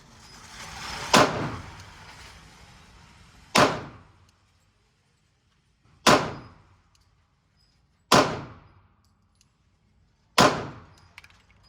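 Glock pistol fired at a shooting range: five separate sharp reports spaced roughly two seconds apart, each a sudden crack with a short fading tail and near silence between.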